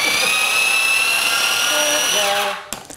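A blender whirs loudly, blending roasted red pepper dip with olive oil in a high, steady motorized whine that winds down near the end, followed by a few faint clatters.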